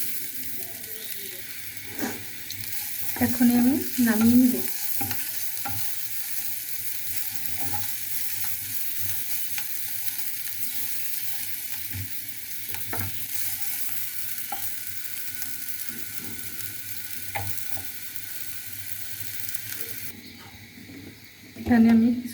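Flat beans crackle and sizzle steadily while frying in a pan for lunch, a continuous hiss with stirring scrapes, and a voice speaks briefly near the start and again at the end.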